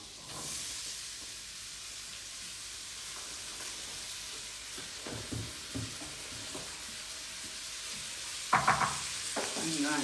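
Chilli ingredients frying in butter in a pan over high heat give a steady, moderately loud sizzle and hiss throughout, with occasional scrapes and clinks of a spoon stirring near the end.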